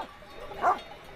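A single short bark or yelp from a sheep guard dog working around a flock, heard once at moderate distance over a steady outdoor background hiss.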